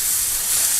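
King prawns sizzle in a hot pan, a steady bright hissing fry that stays even and close throughout the brief moment.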